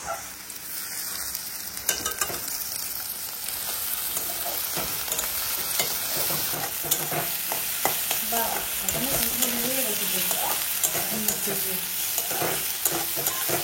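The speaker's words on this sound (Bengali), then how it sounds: "হালকা হালকা ভেজে নিয়েছি" Prawns coated in turmeric and salt fry lightly in a pan, making a loud, close sizzle with repeated scraping and stirring strokes, a busy continuous crackle without speech.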